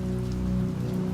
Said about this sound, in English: Rain hammered the window harder, like the weather was trying to drown the conversation.